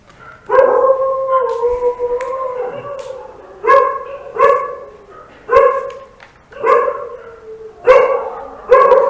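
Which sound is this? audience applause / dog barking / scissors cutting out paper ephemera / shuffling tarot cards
dog barking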